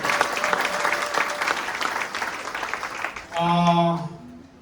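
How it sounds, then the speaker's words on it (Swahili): An indoor crowd at a title deeds handover for Bamburi plots claps steadily for several seconds, the applause fading near the end as a brief sustained tone rings out. "So mpigieni Rose makofi tafadhali."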